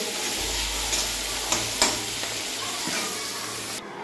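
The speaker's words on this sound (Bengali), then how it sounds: "পটল ভাজা করছি আমি এখন।" Pointed gourd, seasoned with salt and turmeric, sizzles steadily in hot oil on a stove, with a couple of sharp stirring clatters and a low hum beneath.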